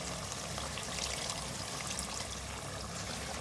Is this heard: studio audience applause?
no